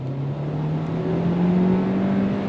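A 2024 Hyundai Kona Limited in sport mode accelerates on throttle, engine hum climbing steadily in pitch under a constant cabin drone, heard from inside with no speech.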